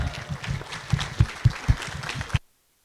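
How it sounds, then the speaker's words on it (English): An audience at a city council meeting in San Bernardino claps, with a burst of uneven clapping and a few louder close claps, then it cuts off abruptly after about two seconds. "Give a round of applause"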